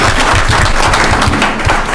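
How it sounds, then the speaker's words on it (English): An audience at a school board meeting claps loudly and continuously, the dense applause filling the room without a break. "let's give her a big round of applause for that"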